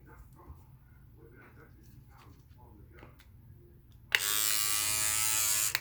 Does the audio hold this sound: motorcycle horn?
no